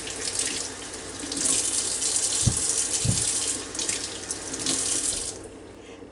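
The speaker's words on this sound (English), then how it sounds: "I'm just going to rinse them off to make sure that they are nice and clean." Tap water runs steadily over potatoes being rinsed in a sink, a continuous close splashing hiss with a couple of brief low knocks partway through.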